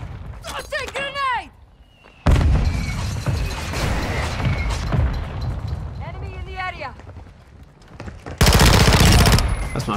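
Gunfire and explosions in Modern Warfare II multiplayer: loud rapid automatic shooting with heavy blast-like bursts, close and intense, separated by short lulls and with whistling, chirping game effects in between.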